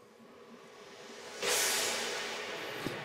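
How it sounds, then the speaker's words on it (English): Reversed crash cymbal with heavy reverb for a cinematic intro: quiet hiss, then a wash of bright noise surges in about halfway and holds loud before tapering slowly, with a faint tick near the end. "And what this is actually just a reversed crash"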